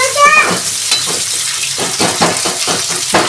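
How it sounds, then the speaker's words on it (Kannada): Chopped ginger roasting in hot oil in a pan for Mandya-style chicken chops, a loud steady sizzle with scraping stir strokes across the whole stretch and no talking. "ಈ ಥರ ರೋಸ್ಟ್ ಮಾಡ್ಕೋಬೇಕು, ಬಿಕಾಸ್ ಹಸಿ ಸ್ಮೆಲ್ ಹೋಗಲಿ ಅಂತ."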